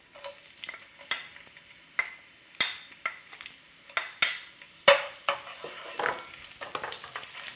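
Garlic and ginger fry in vegetable oil in a home kitchen, a soft sizzle broken by repeated sharp scrapes and taps of a utensil stirring the pan, spaced irregularly and close, with no talking.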